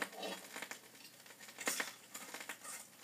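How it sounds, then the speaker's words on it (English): A cookie jar is opened and a cookie is eaten, giving soft clinks, rustles and crunchy chewing that patter along fairly quietly with no talk. "That's the sound of you opening the cookie jar and eating a cookie."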